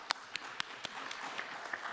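An audience at a round-table event applauds with light, sparse claps, a few sharper hits standing out at first before the clapping thins into a quiet patter.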